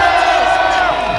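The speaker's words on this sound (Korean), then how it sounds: "박수 부탁드립니다." Crowd at a Korean university anti-impeachment rally cheers and whoops for a professor introduced to speak, a loud, dense mass of voices sustained throughout without a break.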